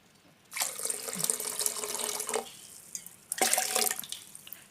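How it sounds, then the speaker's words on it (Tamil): Water splashes steadily into a pot of sago and moong dal for about two seconds, pauses, then pours again in a shorter burst; no voices. "இப்போ தேவையான அளவுக்கு நம்ம தண்ணி ஊற்றிக்கலாம்"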